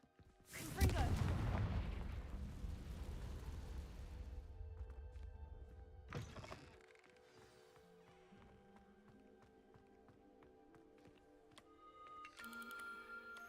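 A Confringo spell blasts off in Hogwarts Legacy, a loud burst at the start that rolls into a long rumbling decay. A second sharp crack follows midway, over quieter game ambience.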